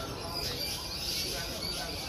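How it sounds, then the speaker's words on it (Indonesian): Canaries and other caged birds at the Prambanan bird market, faint high chirps and twitters scattered over a dense, low background murmur. "Keadaan pasar di Pasar Burung Prambanan"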